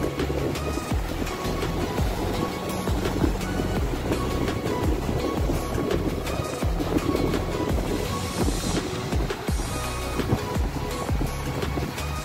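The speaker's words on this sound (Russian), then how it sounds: "море, средиземные волны" Mediterranean sea waves washing in at the old port of Jaffa, Israel, a steady broad wash of surf with wind noise on the microphone, continuous and moderately loud with no talk.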